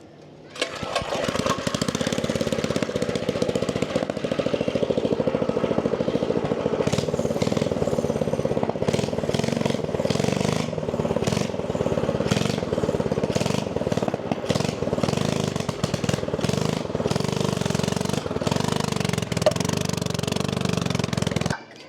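A custom mini trike's small engine runs steadily and loudly up close for about twenty seconds, with a rough, buzzing, choppy tone and no talk over it.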